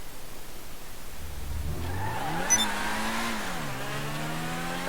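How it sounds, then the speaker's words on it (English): A Lamborghini Countach engine in a video game revs up from idle. Its pitch climbs, holds briefly, then dips and settles, a steady mid-range roar heard alone. "Oh, just listen to that engine."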